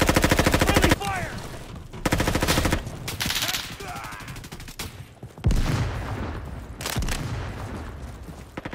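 Rapid automatic gunfire from a Roblox shooter game rattles in dense, loud bursts broken by short gaps, with a voice heard briefly among the shots.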